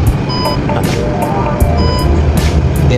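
Repeated electronic beeps from a fuel pump alarm signalling a full tank sound at a steady rhythm over a loud, constant engine rumble, clear and close.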